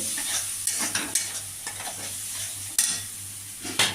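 Masala spice paste for an eggplant and paneer curry sautéing in a pan over low heat, giving a steady close sizzle broken by repeated scrapes and taps of the stirring spoon.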